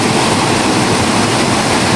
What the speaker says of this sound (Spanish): Vean cómo cae la, ahí la, el agua en esa cascada que se forma aquí.